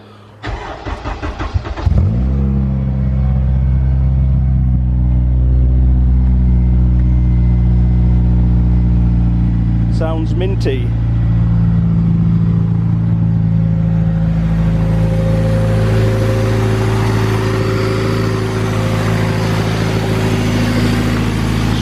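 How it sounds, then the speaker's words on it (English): A Honda Civic EJ9 with a K-series engine swap cranks and starts, then settles into a loud, steady 3-inch exhaust rumble with a brief rev partway through; a voice speaks briefly near the end. "Give you a sound clip of the exhaust."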